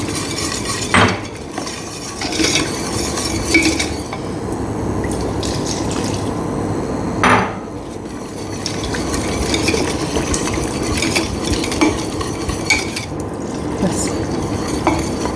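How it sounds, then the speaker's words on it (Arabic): Flour and butter stirred together in a pot for béchamel sauce, a loud continuous scraping and stirring close up with a faint cooking sizzle and occasional utensil knocks; a voice speaks one brief word. "رح نقلب الطحين مع الزبدة شوي ونطبخ الطحين"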